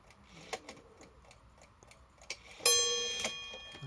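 A Badische striking alarm clock, freshly repaired with its hammers straightened, ticks softly before a single hammer blow rings out on the bell and decays slowly in a quiet room.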